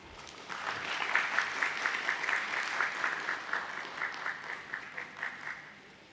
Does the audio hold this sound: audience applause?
yes